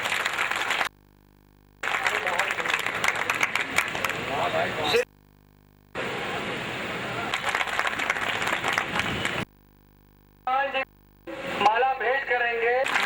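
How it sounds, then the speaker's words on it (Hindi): Crowd applause welcoming guests at a public general meeting, an annual election assembly from 2011, broad bursts of clapping broken by short silent gaps, with voices and chatter mixed in near the end. "तालियों से स्वागत करिए।"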